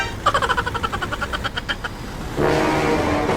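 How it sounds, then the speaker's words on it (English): Train passing at a railway crossing in a truck driving game: a near, rhythmic clatter of wheels pulses for about two seconds, then gives way to a loud, sustained horn-like tone that holds to the end. "Oh my God, train!"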